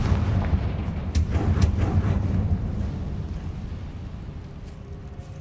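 The Confringo blasting curse in Hogwarts Legacy lands as a heavy, rumbling explosion, a deep boom with crackling debris that slowly fades over several seconds, alone without speech.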